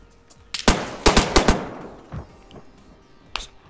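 Gunfire in the video game DayZ: a quick burst of about five sharp, loud shots within a second, followed by a fading echo and a couple of fainter distant shots, with no talk.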